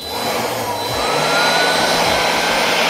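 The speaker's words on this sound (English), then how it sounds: "I'm gonna blow the box off the table here." A Craftsman compact blower roars loudly and steadily at close range, its airy whoosh holding a constant pitch throughout.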